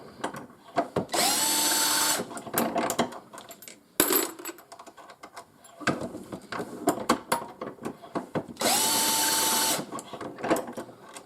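Lee Deluxe Quick Trim on a power adapter trims brass rifle cases, loud steady whirring spin-ups lasting about a second each, interspersed with clinking and rattling of brass cases being handled and dropped.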